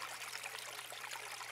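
Davis Creek flowing just upstream from a trout pond, a steady, close, continuous rush and trickle of water with no voices.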